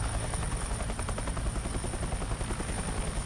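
A Chinook helicopter in a video game gives off a continuous rotor thrum with a fast pulsing beat and a thin high whine, steady and fairly loud, with no speech.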